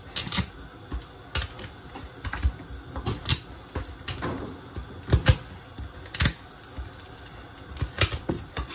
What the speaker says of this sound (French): Donc là, on a du poivre qui est juste écrasé.